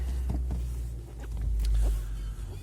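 A Renault Megane 4 Joy being started: a low mechanical rumble and whir builds near, swelling midway and then settling into a steady idle, with no voices.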